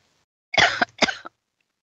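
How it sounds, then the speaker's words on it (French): A person gives two short, close coughs in quick succession, loud against an otherwise silent background. "Ça fait tousser."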